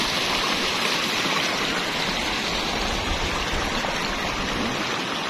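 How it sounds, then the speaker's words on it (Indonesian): River water from the slopes of Mount Semeru rushes down a lahar channel near a gabion flood embankment, a steady, dense, close roar of flowing water with no break. "ini adalah aliran dari sungai-sungai di lereng-lereng Gunung Semeru dari atas sana"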